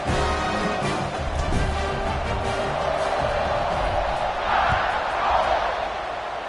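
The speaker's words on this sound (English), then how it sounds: "this crowd is feeling themselves after that last drive" A college football stadium crowd roars steadily after a scoring drive, a dense, far-off wash of cheering that swells slightly near the end and holds throughout.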